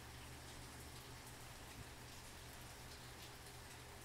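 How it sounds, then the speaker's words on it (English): Steady rain pattering continuously in the background, a soft, even hiss with faint drops and no voices. "that is rain in the background"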